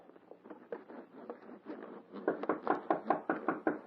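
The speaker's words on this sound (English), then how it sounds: "Hark. Someone knocks." Knocking on a door in a dramatized telling of The Emperor's New Clothes: a steady run of about a dozen close raps that grows louder and sharper in its second half, with no talk over it.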